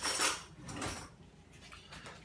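A spoon scooping royal icing out of a large batch, a few soft, close scrapes and clinks in quick succession, fairly quiet and without speech.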